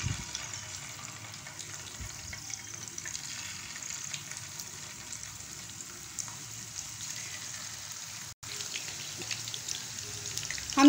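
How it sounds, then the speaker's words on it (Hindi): Gola kababs frying in hot oil over a medium-low flame, a steady even hiss of bubbling oil with a brief drop-out near the end. "हम इसमें गोला कबाब डाल लिए हैं। अब हम इसको फ्राई करेंगे।"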